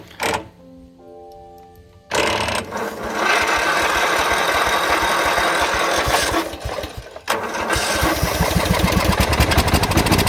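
A racing lawnmower's small engine is cranked and fires, first a brief low rumble, then a loud, steady, rapid mechanical chatter that drops out briefly near seven seconds and picks back up, close by.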